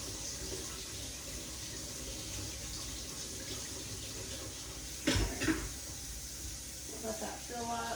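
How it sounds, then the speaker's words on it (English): A kitchen sink tap runs hot water, a soft steady rushing hiss that continues throughout, with a brief clatter partway through. "Let that fill up with some hot water."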